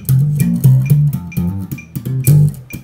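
A bass guitar plays a fast pentatonic line of short plucked notes in a steady rhythm, heard up close and alone with no voices.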